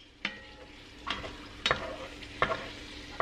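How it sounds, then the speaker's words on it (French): Pieces of ossobuco and onions brown in a hot pan, with a constant close sizzle broken by four or five sharp scraping stirs at irregular intervals. "Et on va mettre les morceaux à dorer légèrement."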